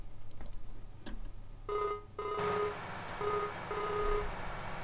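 In the video game Farming Simulator, a phone call rings out with repeated electronic ringtone bursts in a steady pattern, preceded by a few clicks, with a low hum beneath.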